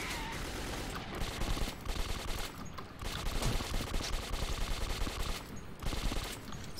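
Sustained automatic gunfire in the video game Metro 2033, dense rapid bursts of shots with brief gaps, loud and continuous across the whole stretch.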